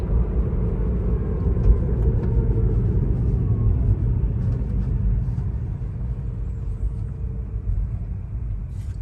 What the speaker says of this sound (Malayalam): അമേരിക്കൻ വഴിയിലെ ട്രാഫിക്